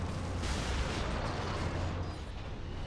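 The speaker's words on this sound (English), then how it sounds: "But the las cannon's still pretty decent at taking these guys out." Lascannon blasts in the Warhammer 40,000: Space Marine video game, a dense, loud roar of heavy energy fire and explosive rumble that fades slightly near the end.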